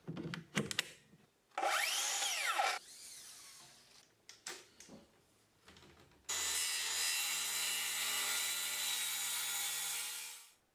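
Several short clatters and swishes come first, then a Bosch brushless cordless Biturbo circular saw spins up and cuts wood with a loud, steady motor whine for about four seconds before winding down.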